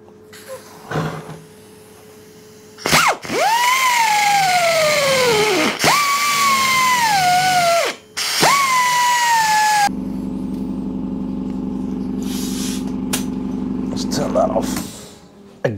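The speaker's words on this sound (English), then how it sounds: "So I'm gonna grind that pin flush first and see if we can get it on the move without any heat" An angle grinder grinds the pin of a Royal Enfield girder fork flush in three loud, whining bursts that spin down between passes. A lower, steady hum follows afterward.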